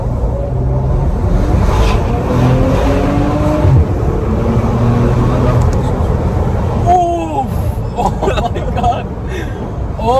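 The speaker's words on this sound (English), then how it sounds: "I'm gonna floor it. And just listen to this engine roar." Engine of a 2020 Maserati Levante SUV roaring at full throttle, a loud sustained drone with rising pitch filling the whole stretch, heard from inside the cabin with some background chatter.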